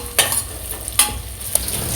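Masala with green chillies, mint and coriander for chicken 65 biryani sizzles steadily in a pan, loud and close, with three sharp scraping stirs cutting through the frying.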